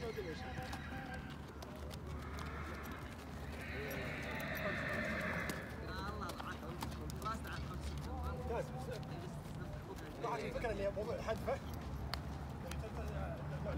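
A horse in a riding lesson neighs and its hooves clip-clop steadily while an instructor talks over it at length, the whinnies rising clearly above the hoofbeats at moments.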